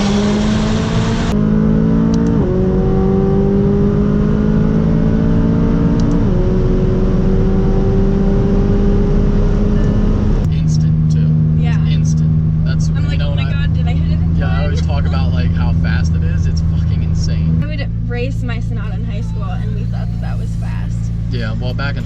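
A McLaren sports car accelerates hard while driving, its engine note climbing through several gear shifts in rising sweeps before settling into a steady loud drone, with talk from the occupants over it.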